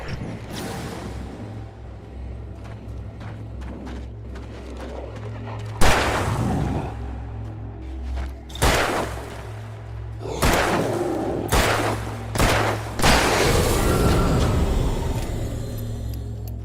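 Alan Wake Remastered gunfire: a handful of loud, sharp shots ring out at uneven intervals, with the later ones bunched closer together over a low ambient drone and echoing thuds.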